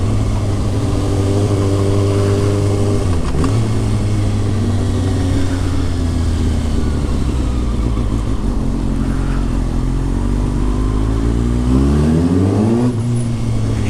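A Kawasaki Ninja 636 sport bike fitted with an Akrapovic exhaust cruises along the road, its steady engine drone rising and falling through gear changes, with wind rush throughout and a sharp revving climb near the end.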